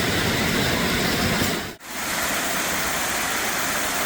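Steady broadband roar of a waterfall in a tulip festival garden, constant and full throughout, with one brief dip in the middle before the rush returns.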